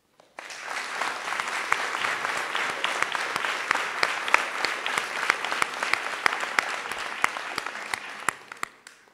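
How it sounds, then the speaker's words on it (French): Sustained applause from an audience in a hall at a mayor's New Year ceremony, dense steady clapping with sharper individual claps throughout, rising quickly and fading out near the end, with no speech. "Je pense qu'on peut les applaudir."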